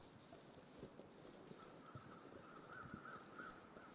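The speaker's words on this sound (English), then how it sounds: "There's those crows up there." Crows caw faintly overhead in The Long Dark, a few distant calls rising over a steady wind-like ambient bed.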